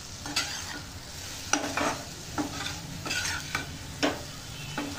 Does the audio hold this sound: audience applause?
no